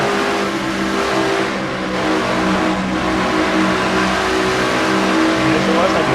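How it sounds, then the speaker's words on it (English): Race car engine roars steadily throughout from an on-board perspective in a NNSCRA Castrol GTX Cup stock car racing video game at the Miller Lite 400, with commentary speech running over the continuous engine drone. "On board Jesse Shelton's car."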